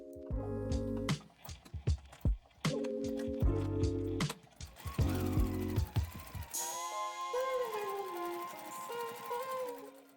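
A sewing machine stitches the hem of thick fabric with a size 14 needle, giving rapid mechanical rattling bursts separated by short pauses. Near the end the stitching stops and a tonal musical passage plays.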